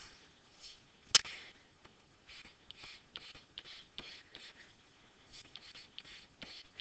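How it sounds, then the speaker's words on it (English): A pen draws asymptote lines on a hand-sketched cotangent graph, giving quiet, close scratchy strokes in short bursts, with one sharper tap near the start. "so I'm going to draw in my asymptotes"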